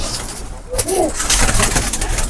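Mixed-breed pigeons coo in a brief rounded call amid a busy, noisy background, with someone talking over them throughout.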